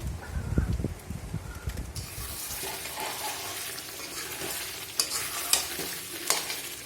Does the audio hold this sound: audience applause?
no